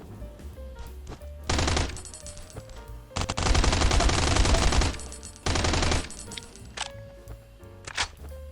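Loud bursts of rapid automatic gunfire in repeated volleys in the video game Last Island of Survival, separated by quieter gaps with scattered single shots.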